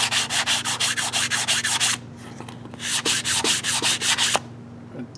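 Close, loud back-and-forth scrubbing on the grimy, pitted seating surface under the reed valve screws of an Elgin 6 hp outboard motor, with rapid regular strokes in two bursts separated by a short pause and no talking.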